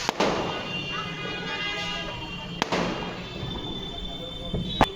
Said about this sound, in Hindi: यहाँ पटाखे वगैरह जल रहे हैं